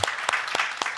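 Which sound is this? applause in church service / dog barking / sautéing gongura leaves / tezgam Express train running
applause in church service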